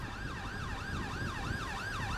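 An ambulance siren in the GTA 5 video game wails in a fast, regular rising-and-falling cycle, loud and steady over road noise, with no talking.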